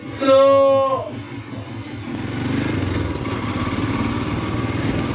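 A motorcycle engine rumbles steadily nearby, with a brief rising voice-like tone at the start before the engine noise settles into a continuous drone.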